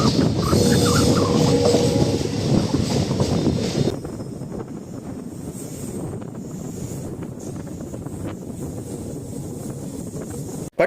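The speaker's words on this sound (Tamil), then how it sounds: "Pattukkottai railway ஸ்டேஷனோட platform number 2 main லைன்ல தான் நம்ம ட்ரெயின் அரைவ் ஆயிட்டு இருக்குது" A train rolls into platform 2 on the main line at Pattukkottai railway station, a steady rumble of wheels and carriages under heavy wind buffeting that drops away partway through, with no voices.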